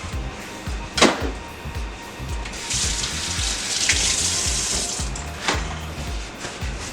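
Water runs from a kitchen tap as can lids are rinsed in a sink, splashing unevenly nearby with a few sharp clatters of metal against the basin.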